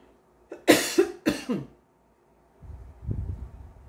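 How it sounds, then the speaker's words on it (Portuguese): A woman with a sore throat lets out three or four harsh, close coughs in quick succession, then falls briefly silent before a low voice begins. "Peço perdão por essa tosse,"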